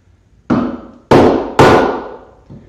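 Three sharp hammer blows on a short timber-frame rafter resting on a sawhorse, each striking loud and close with a ringing decay, followed by a softer fourth tap, with no talk.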